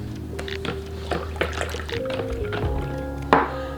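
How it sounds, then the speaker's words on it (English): A spoon stirs red sangria with grenadine in a pitcher or glass, giving soft liquid sloshing with scattered clinks and small splashes, close and fairly quiet, with no talking. "And then you're just going to stir everything up."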